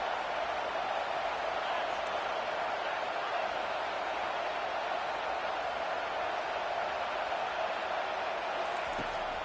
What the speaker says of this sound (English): Now the crowd responding in the red zone, trying to help this defense